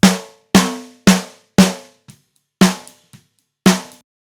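A raw, unprocessed snare drum with a poor recorded tone, struck about six times in a loose rhythm with a couple of faint ghost taps between; each hit cracks loudly and decays quickly into silence.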